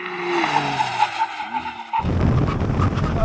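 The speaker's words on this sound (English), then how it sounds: "Now I'm going to do a brake test from 100 miles an hour." A McLaren Artura plug-in hybrid supercar brakes hard from 100 mph, its tyres scrubbing and squealing for about two seconds before loud road and wind roar takes over as the car continues.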